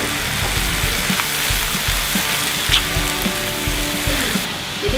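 A vegetable stir-fry sizzles steadily in a pan, a dense, even hiss with faint scraping and clicking from stirring, continuous and close with no talk.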